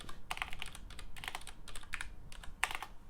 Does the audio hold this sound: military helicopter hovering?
no